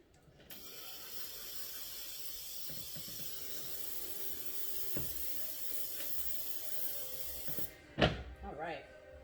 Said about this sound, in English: So you're going to pump that about 15 times or until you feel a lot of resistance.